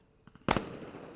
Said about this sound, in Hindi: बाहर आतिशबाजी की आवाज़ आ रही